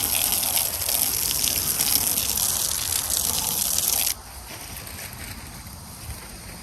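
Water rushing through a garden hose reel as it fills, a steady loud gushing hiss that cuts off abruptly partway, leaving a quieter low background.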